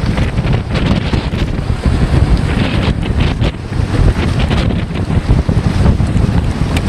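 Strong wind roars across an EZ Dock in extreme weather while water blows up over it and waves surge, a loud, continuous buffeting close to the microphone with no talking.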